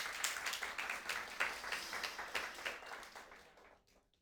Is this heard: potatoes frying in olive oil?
no